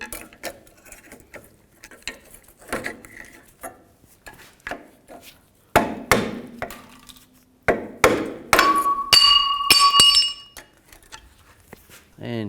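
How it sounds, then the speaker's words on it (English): Metal clinks and taps as a straight blade screwdriver pries the rear brake pads off a 2000-06 GMC Yukon, with scattered scraping, a few sharper knocks and a short high ringing. "Take the brake pads off, just use the same straight blade screwdriver."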